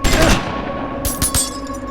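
Gunshots fired from cover in the turn-based game Wasteland 2, a sharp crack at the start and a second close burst of two quick reports about a second later, with a faint hum underneath.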